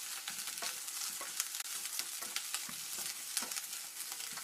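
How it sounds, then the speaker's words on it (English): Meatballs fry with onions in a pan, a faint, busy crackle of spitting oil with scattered sharp pops and light stirring, quiet and continuous without any voices. "now let's put in our meatballs because we want the meatballs to start cooking up now"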